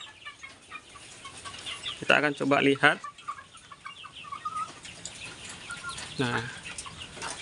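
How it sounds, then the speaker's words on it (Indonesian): Mardi free-range kampung broiler chickens, about 50 days old, cluck and squawk in loud bursts near two seconds and again around six seconds, with someone talking quietly between them. "Ini adalah ayamnya untuk usia 50 hari."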